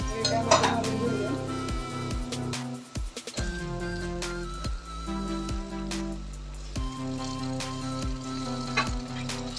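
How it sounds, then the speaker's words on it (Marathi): Tomatoes sautéing in oil with turmeric for Maharashtrian misal, a steady close sizzle broken by spoon clinks and scraping against the pan. "त्याला पण छान परतून घेऊया."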